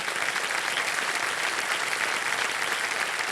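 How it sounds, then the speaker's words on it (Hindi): Loud, sustained applause from a TV quiz show studio audience fills the whole stretch as a dense, steady wash of clapping with no talk over it. "एक बार जोरदार तालियां"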